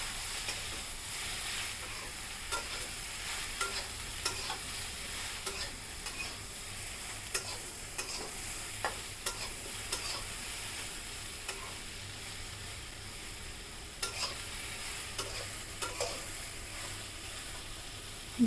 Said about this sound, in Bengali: ঝিঙ্গে দেওয়ার পরে কিন্তু ভালো করে আলু আর ঝিঙ্গে ভালো করে ভেজে নিতে হবে।